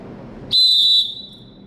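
A basketball referee's whistle gives one sharp, loud, steady blast lasting about half a second, close by, against a quiet gym background.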